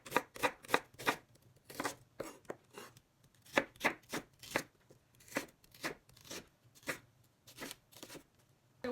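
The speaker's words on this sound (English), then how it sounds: "I'm going to slice the onion" A knife slices an onion on a cutting board in a home kitchen, a close, crisp series of rhythmic chops in quick bursts with brief pauses, heard alone without talk.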